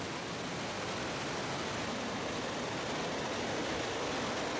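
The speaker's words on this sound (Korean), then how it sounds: "짐바브웨 쪽의 첫 번째 폭포가 악마의 폭포다." Devil's Cataract at Victoria Falls, seen from the Zimbabwe side, gives a steady, dense roar of falling water. The sound is even and unbroken throughout, with no voices.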